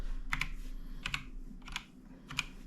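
Computer keyboard typed on in four quick bursts of two or three keystrokes each, close and crisp against a faint background hum.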